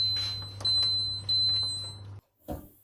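A kitchen appliance cooking zucchini with parmesan gives a few steady electronic beeps over a low hum, which then cuts off, followed by a faint thud.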